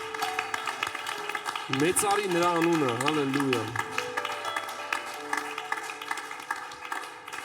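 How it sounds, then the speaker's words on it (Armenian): A church congregation clapping steadily throughout while a voice calls out and sings over the applause. "Սրտանց ծափ տանք Տիրոջը։"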